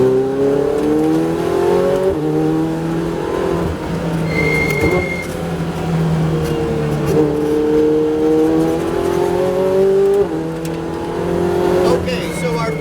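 Ferrari 488 Challenge race car braking hard and downshifting on a track, engine note falling and blipping through gear changes, heard from inside the car with an instructor talking over it.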